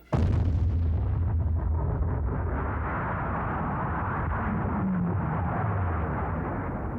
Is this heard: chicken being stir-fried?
no